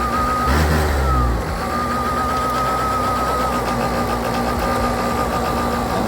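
A cheap scooter's small engine revs hard briefly at full throttle, then holds a steady high-pitched drone as the revs hang without dropping.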